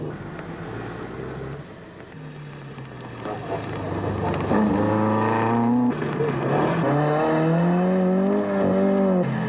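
A historic racing car with an engine of roughly 480 to 500 horsepower runs at speed in a 1999 tarmac rally. The engine note climbs and falls loudly and continuously through the gears, with heavy wind rush and no voices.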